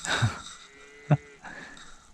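Scottish cattle low a few times nearby in the Scottish mountains, short deep moos separated by pauses, with faint outdoor background and no speech.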